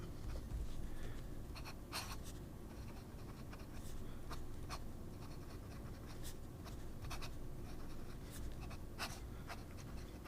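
A Natami PrismX fountain pen with a fine nib writing on paper, faint scratchy strokes in short bursts close to the mic over a steady low background hiss.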